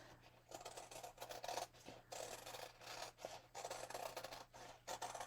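Scissors cutting a football shape out of brown fabric, close and faint, a run of repeated rasping snips and slides in an even rhythm over a low steady hum.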